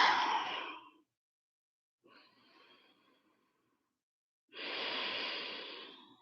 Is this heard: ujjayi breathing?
yes